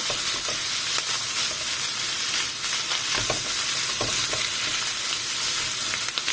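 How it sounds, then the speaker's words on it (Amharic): Macaroni and chicken fry in a pan with a continuous crackling sizzle and occasional stirring scrapes, close and steady, with no talking. "ይሄን አብረን እንጠብሰዋለን ከዚህ ጋር ከዶሮ ጋር አብረን ጥብስ እናደርገዋለን"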